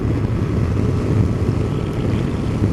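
A 2019 Yamaha Tracer 900 GT motorcycle is ridden at speed, giving a loud, steady engine drone mixed with heavy rushing wind noise on the microphone, with no talking during these few seconds.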